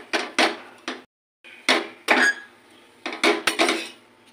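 A paratha being flipped in an oily frying pan: a run of sharp metallic scrapes and knocks from the spatula against the pan, coming in uneven bursts with short pauses, close and fairly loud.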